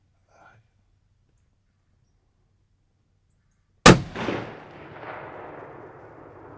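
A single loud rifle shot rings out during a deer hunt, a sharp crack followed by a long rolling echo across open ground after near silence, with faint whispering just before.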